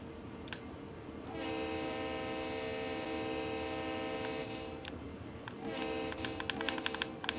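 Diesel locomotive, an SD40-S in a train simulator on Sand Patch Grade, sounds a long sustained multi-tone horn blast over steady engine rumble, then clicking and tapping sounds take over toward the end.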